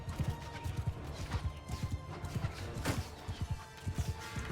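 Cavalry horses galloping in the video game Bannerlord, a dense, rapid drumming of hooves with scattered clatter, continuous and fairly close.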